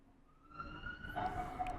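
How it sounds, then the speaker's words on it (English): Police sirens wail faintly in the distance during a chase through alleys, a thin rising tone that swells slightly partway through. "Hear the sirens"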